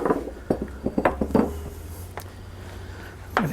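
A bowl being handled while making brioche dough, a cluster of close clinks and knocks of kitchenware in the first second and a half, then a quiet stretch and a final clink.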